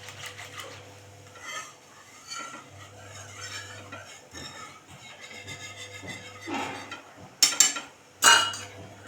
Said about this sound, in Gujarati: ને સતત ચમચાથી હલાવતા રહેવું